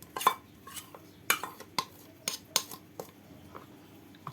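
A spoon scrapes and clinks against a dish while tahini sauce is stirred, a series of light, uneven metallic taps close up with no talking.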